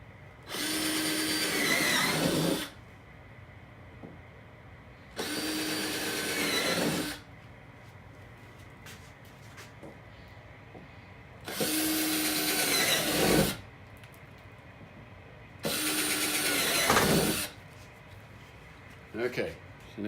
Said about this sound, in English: I'm going to drill some holes from the backside to put the jigsaw blade into